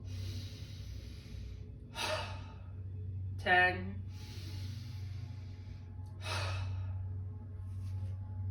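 Wim Hof style breathing exercise: a person gives several forceful, breathy exhalations spaced a couple of seconds apart, with one sharper, voiced "ha" among them, over a low steady hum. A voice briefly counts aloud.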